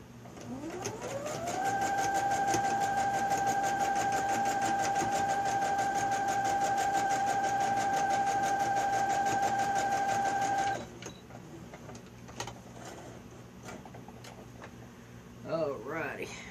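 Sewing machine running steadily while stitching newspaper-pieced quilt blocks together, a continuous loud whirring hum for about ten seconds, then stopping, followed by quieter handling sounds.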